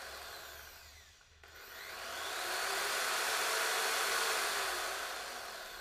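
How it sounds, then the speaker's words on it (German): A Pila ocaska PSA 700 E reciprocating saw whirs up after a brief pause and cuts steadily with a harsh, buzzing rasp, close and loud, with no talking. "Durch den elektronischen Gasgebeschalter ist das angepasste Sägen unterschiedlichster Materialien möglich."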